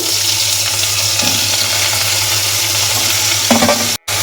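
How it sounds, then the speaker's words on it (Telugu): Apple pieces fry in a little oil in a home kitchen pan, giving a steady, close sizzle throughout with faint stirring clicks and a brief dropout near the end. "యాపిల్ అయితే మంచి ఫ్రై చేసుకుంటున్నారు"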